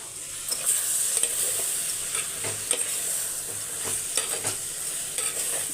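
Food being stirred and mixed in a frying pan, with repeated spatula scrapes and clatters over a steady sizzle, close up and continuous without talk.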